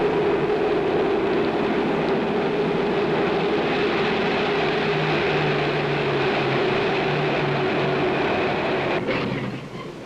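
A mail train runs along the rails, a loud continuous rumble and wheel roar with steady whining tones that hold throughout, easing slightly near the end.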